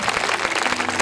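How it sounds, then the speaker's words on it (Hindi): A crowd applauds to welcome a pandit at a Hindu religious discourse gathering, a short, dense burst of clapping heard as a continuous wash without speech. "सब लोग जोरदार पंडित जी के लिए जोरदार तालियों से उनका स्वागत कीजिए।"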